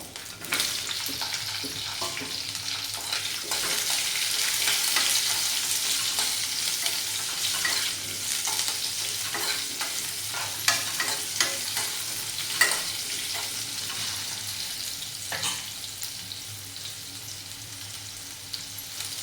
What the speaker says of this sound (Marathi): आणि यामध्ये आता कापली ही कैरी ॲड करूया